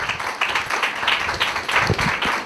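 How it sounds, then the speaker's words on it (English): An audience applauds a guest speaker, a council member and state senator-elect, at a Queens borough Democratic club meeting: a crowd claps steadily and briskly throughout, fairly loud and close. "Give him a hand of applause"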